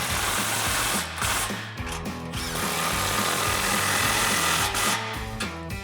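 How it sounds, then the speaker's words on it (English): An impact wrench with a 16mm socket tightens exhaust clamps on a Ford F-150 dual exhaust. It gives a loud, continuous buzzing rattle up close, with brief dips between bursts. "We're going to use our impact and 16mm socket and tighten those both down."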